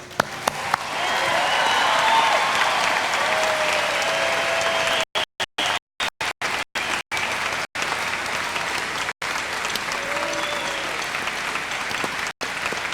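A commencement crowd applauds the graduates loudly and steadily for over ten seconds, a dense wash of clapping with some cheering; the sound drops out several times in brief gaps.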